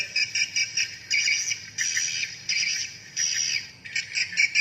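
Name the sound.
recorded swiftlet lure call, mating call version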